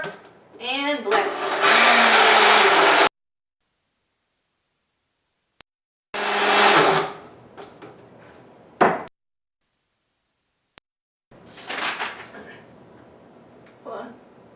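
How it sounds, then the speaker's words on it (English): Loud bursts of a countertop blender whirring through a drink, three separate runs of a few seconds each with near-silent pauses between, the first and longest starting with a rising spin-up. "Flip it over and blend."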